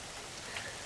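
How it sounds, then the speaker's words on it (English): Rain falling during a severe thunderstorm, a steady broadband hiss of drops lasting under a second, fairly faint and with no other clear sounds. "Oh, I feel the rain now."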